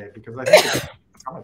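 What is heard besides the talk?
sneeze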